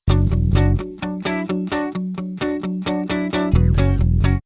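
Excerpt of a song played back, a steady run of punchy, evenly spaced chords with a heavy, distorted band sound, a sustained burst near the end, no talking.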